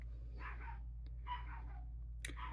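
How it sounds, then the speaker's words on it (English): Pet dogs in a home barking excitedly in the background, three bursts of quick yapping barks, fairly faint and distant over a steady low electrical hum. "You can also hear my dogs going nuts in the background."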